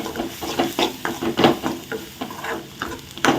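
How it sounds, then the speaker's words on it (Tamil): Onion masala sautéing and being stirred in a pan while making a chapati lunch-box dish, a soft sizzle broken by repeated scraping and stirring strokes in a steady rhythm, close up with no voices. "இப்போது இந்த மசாலா ஆனியன் எல்லாம் நல்லா மிக்ஸ் ஆகும் வதங்கட்டும்"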